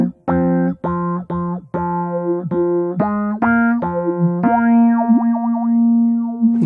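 Rhodes electric piano played through an EHX Polyphase phaser pedal, loud and close: a run of short repeated notes, then a held note whose swept, wah-like phasing rises and falls alone.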